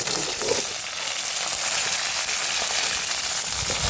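Urad dal and fennel seeds splutter in hot oil with a dense, continuous crackling sizzle heard up close, with no voices over it.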